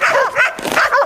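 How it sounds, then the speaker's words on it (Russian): Excited dogs on a Siberian taiga hunting base bark and yelp in quick bursts, close and loud, greeting their returning owner with high whimpering tones between barks. "Собаки тем временем сходят с ума от счастья."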